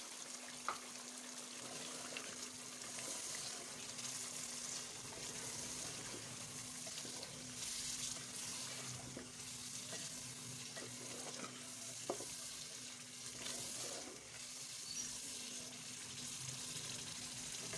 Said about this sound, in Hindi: और साथ ही एक प्याली दही शामिल करके इसे अच्छी तरह से भून लेंगे।